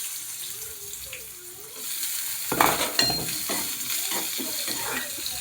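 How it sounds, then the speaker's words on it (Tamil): Onions, garlic, dried red chillies and curry leaves start frying in a pan for beetroot poriyal, a quiet start giving way midway to a sudden hiss and sizzle with scraping stirs, close by. "வெங்காயம் சேர்த்து கொஞ்சம் வதக்கலாம்"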